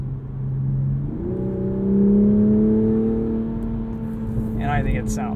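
A 2021 Toyota Supra 3.0 Premium engine accelerating on the road, a smooth rising engine drone and rumble heard from inside the cabin, with a short voice near the end.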